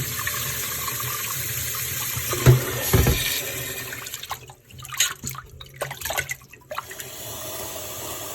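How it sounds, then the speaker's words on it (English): Cold tap water runs and splashes steadily into a sink as raw chicken is rinsed underneath, with a few louder sloshes and a dip in the flow partway through. "clean your chicken nice with cold water."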